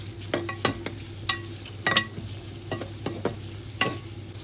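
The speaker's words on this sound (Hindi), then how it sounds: "अभी प्याज के साथ चिकन की भी अच्छे से भुनाई कर लेंगे हम" Chicken and onions frying in a pot for aloo gosht, with a spoon stirring and scraping in sharp intermittent bursts over a steady low sizzle, close and clear with no talking.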